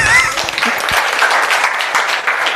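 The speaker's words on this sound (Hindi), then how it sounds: "ताली बजा रहे हैं।" An audience at a Jeevan Vidya introductory camp session in a hostel hall in Bhilwara breaks into loud, continuous clapping, many hands close together throughout.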